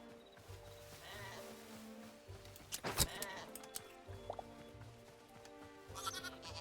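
Sheep bleat in the video game Hytale, several quiet calls over a low background with one sharp, louder bleat near the middle, and faint game sounds around them.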